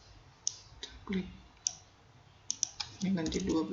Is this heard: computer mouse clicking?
yes